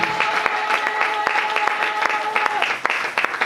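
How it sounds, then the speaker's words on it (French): A church congregation gives a burst of loud, dense applause during a Sunday service, many hands clapping together steadily throughout. "Acclamons très fort la parole de Dieu."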